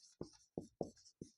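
Chalk or pen strokes writing the common difference during a Class 10 arithmetic progression maths lesson: four short, distinct scratchy bursts in quick rhythm, close and fairly quiet, with no talking.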